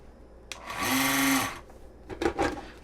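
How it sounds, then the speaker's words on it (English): An NKDFRI electric peeler whirs as its motor runs with cherry tomatoes, giving one steady, close mechanical drone of about a second that cuts off. A few softer clattering knocks follow. "Switch bowls, motor back on, and let's go ahead and do some ejecting here."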